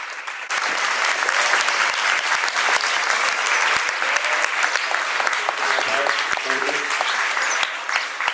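A school gathering breaks into loud, sustained applause to welcome an honour, the crowd's clapping starting abruptly and holding steady for several seconds while a few voices murmur underneath.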